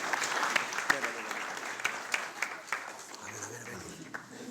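A congregation at a church seminar in New Caledonia applauds a preacher, steady dense clapping with a few louder individual claps standing out, fairly close, with a faint voice murmuring near the end.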